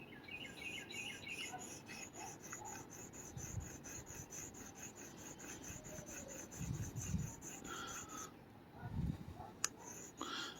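A round object found in a park is rubbed against a touchstone to test for gold, giving a steady, close scraping rasp with slight rhythmic strokes throughout, with faint insect and bird sounds in the background.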